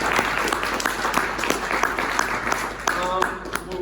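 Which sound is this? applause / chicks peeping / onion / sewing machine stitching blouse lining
applause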